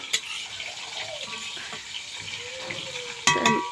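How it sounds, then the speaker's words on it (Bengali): Dry frying sizzle of mung dal in a pan with scraping stirs, a few light utensil clinks and knocks scattered throughout. "মুগ ডালটা আর একটু ভাজা হবে"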